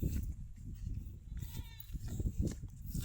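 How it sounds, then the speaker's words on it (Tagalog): Goats bleating on an onion plantation in Mindoro, Philippines, several short wavering calls rising over steady outdoor farm noise and low rumble, with people talking nearby. "Unang kawala naman ang kambing, kaning kambing yan."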